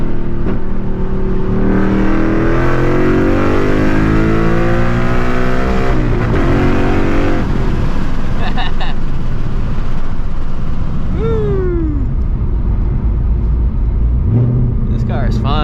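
A catless Ford Mustang GT on Houston streets, its engine revving hard and climbing through gears with loud raspy roar, shifts audible, then backing off with crackle; a voice speaks briefly amid the engine noise.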